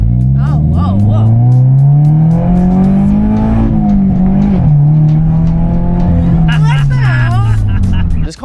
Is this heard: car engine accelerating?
yes